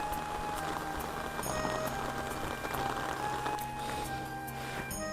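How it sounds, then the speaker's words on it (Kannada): Heavy rain falls at a hilltop Shiva temple, Sri Karinjeshwara in Bantwal, Karnataka, a dense steady patter with scattered sharper drips and knocks on nearby surfaces, continuous and moderately close. "ಜೋರು ಅಂದರೆ ಜೋರು ಮಳೆ ಬರ್ತುಂಟು."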